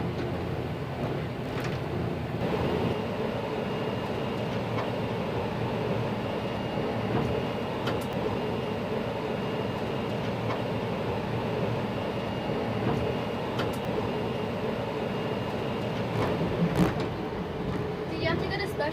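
Disneyland Mark V monorail heard from the front cab, a steady loud rumble and whine of running drive and wheels throughout, with occasional clicks and conversation in the cab over the constant motion noise.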